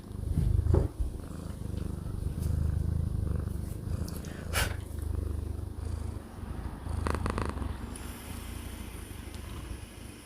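A cat purrs close to the microphone in a steady low rumbling drone that continues throughout, with a few brief rustles and bumps over it.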